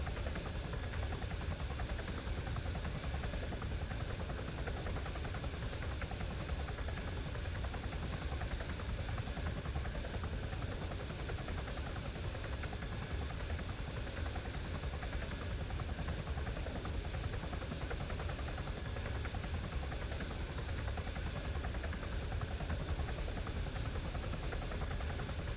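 A helicopter in a military video game drones steadily for the whole stretch, a continuous rotor and engine hum at moderate level with no talking.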